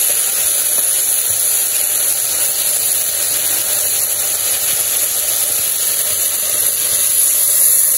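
Water poured into a pan of sautéed vegetables sets off a loud, steady hiss of steam that holds unbroken for the whole stretch, with no voices.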